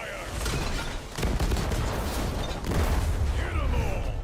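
In the Legends of Runeterra card game, the Bilgewater region's cannon fire and powder-barrel explosions sound as a burst of booming blasts. They come in two dense waves with crackling debris between them.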